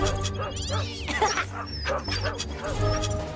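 A voice imitates a dog, repeating short woofing barks in quick bursts over a busy, tonal background of music and sound effects.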